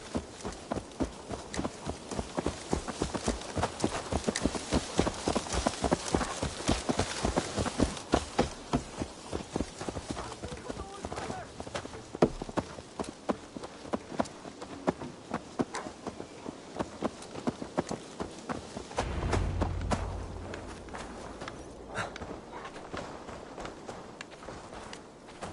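A horse's hooves clip-clop in Assassin's Creed Valhalla, a fast rhythmic run of clear hoofbeats that slows to a walk near the end, with a short rumbling thud partway through.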